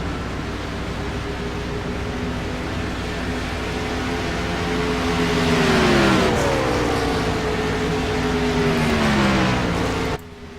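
Racing truck engines roar at Homestead race track, a loud, steady drone that swells as trucks rush past with pitch dropping, several overlapping passes before the noise cuts off abruptly near the end.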